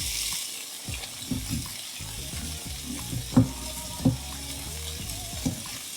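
Sweet potato, corned beef and onion sizzle in olive oil in a pan, a steady frying hiss broken by several soft clunks and scrapes as the food is stirred and shifted, close and fairly quiet with no talking.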